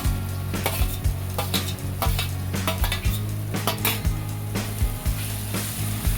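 Tomatoes sautéing in a pan with ginger and garlic for chole, a steady close sizzle broken by repeated sharp scrapes and clinks of a spoon stirring against the pan, with no talking.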